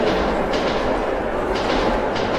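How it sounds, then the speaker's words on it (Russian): A ghostly invisible train rumbles through a metro tunnel in Metro 2033 Redux, a steady loud low roar with faint rhythmic clatter pulsing throughout, with no voices. "Невидимый поезд призрак."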